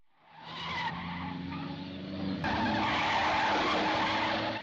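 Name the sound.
car chase tire skidding, James Bond Dr. No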